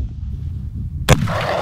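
A single long-range rifle shot is fired during a mountain ibex hunt in Kyrgyzstan. One sharp, loud crack comes after a quiet, windy lead-in and leaves a short, fading rumble.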